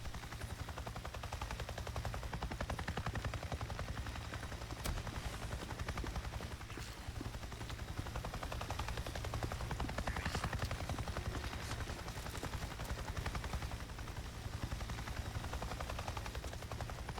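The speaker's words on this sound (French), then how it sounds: "il y a le bruit d'un hélico" Helicopter in the video game Days Gone thrums steadily with rapid rotor chopping throughout, fairly loud and constant, with gunfire-like crackles mixed in.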